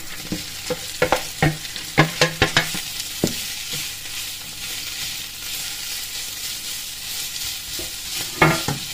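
Chicken hitting a pan of frying onions and garlic, a loud sizzle with a string of sharp scraping stirs up close early on, then steady frying hiss with occasional utensil clinks.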